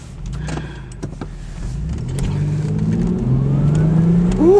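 A Nissan Stagea turbo car pulls away, its engine rising steadily in pitch and loudness from inside the cabin, with a whining tone climbing near the end.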